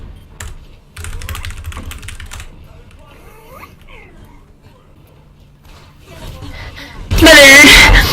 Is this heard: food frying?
no